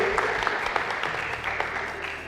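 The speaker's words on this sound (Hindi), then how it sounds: "ताली होनी चाहिए भाई।" Game show studio audience applauding for a contestant, a steady dense patter of many hands clapping close by with no talking over it.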